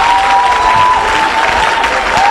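Applause from a church congregation, steady and loud throughout, with a sustained tone and crowd noise layered on top.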